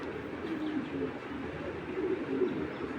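Female pigeon cooing at close range, a steady low murmuring coo that runs continuously at moderate volume with no talk over it.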